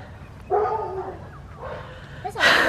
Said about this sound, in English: There's a lot of dogs in the street.